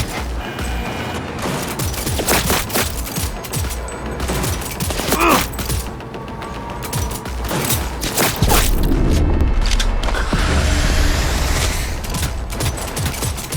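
Dense automatic gunfire in Cyberpunk 2077 during a Nomad mission, loud and continuous bursts of rapid shots with booming impacts and mechanical clatter throughout, close and intense.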